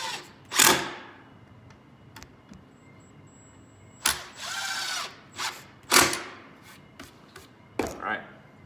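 A power drill drives pocket hole screws into wood in several short whirring bursts separated by pauses, close and fairly loud, with faint handling noise between them.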